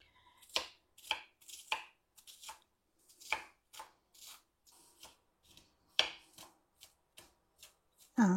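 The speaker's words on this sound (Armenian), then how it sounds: "Մանր կտրատում եմ" Ingredients finely chopped with a knife on a board for a ground meat and potato bake, a series of crisp, close cuts in uneven bursts separated by brief pauses.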